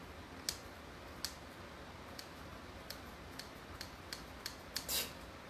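Scissors snipping wreath material, a handful of faint, sharp clicks spaced irregularly in a quiet room, with a slightly louder cut near the end.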